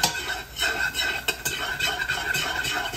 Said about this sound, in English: this is where we want to start whisking it to make your roux